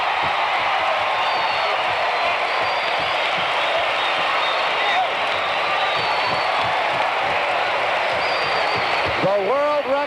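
An indoor track stadium crowd roars and applauds steadily as Doug Padilla pulls away to win the 3-mile race at the Mobil Grand Prix, a dense wash of cheering under an excited announcer's voice.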